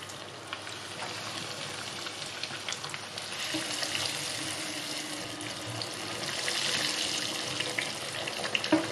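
Steady crackling sizzle of chicken breast fillets frying in hot oil in a pan over high heat, a dense continuous hiss that builds slightly louder toward the end, with no voices.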